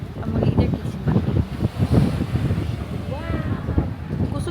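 Strong wind gusting across the microphone outdoors in Tokyo, a steady broadband rush with buffeting under continuous nearby talking voices.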